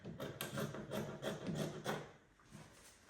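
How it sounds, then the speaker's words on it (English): Scissors cutting off excess fabric while sewing a kimono, a close series of rhythmic rasping snips for about two seconds, then a quieter pause with one more faint cut. "I'm just going to cut it off."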